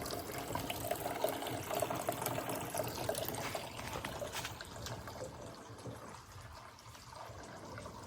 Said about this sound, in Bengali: এখানে সেই পানির শব্দে তো ঘুম এসে যায়